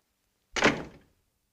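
A door closes with a single solid thud partway through a 1942 classic film scene, with silence before and after.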